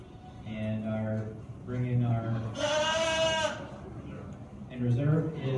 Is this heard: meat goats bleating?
yes